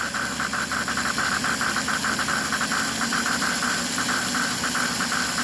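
A model train locomotive's sound system gives rhythmic chuffs, set off by a Hall effect switch, pulsing steadily and fast and fairly loud over a constant mechanical hum, with no speech.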